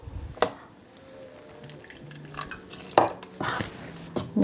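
Red rice batter for Jaffna-style kunduth dosa stirred with water in a bowl, a few clinking scrapes of a utensil against the vessel with soft liquid sloshing between, close and fairly quiet.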